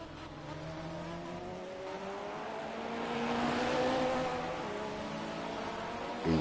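A Mercedes AMG C Coupe DTM race car laps Sonoma Raceway, its engine droning steadily with rising and falling revs that swell as it draws nearer, heard alone at a moderate distance.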